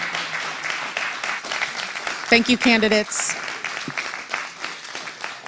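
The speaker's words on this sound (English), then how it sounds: "let's go ahead and give them a round of applause." An audience at a Multnomah Democrats candidate forum claps in a steady round of applause under and after a host's brief thanks, with a short burst of voices in the middle.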